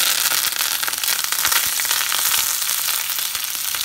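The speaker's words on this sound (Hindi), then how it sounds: "इसमें मैं अब राई डाल रही हूँ, मोटी वाली राई है ये, 1 चम्मच राई डाल दी है।" Mustard seeds crackle and pop in hot oil in a pan, a dense steady sizzle with scattered sharp snaps throughout, close and fairly loud with no talking.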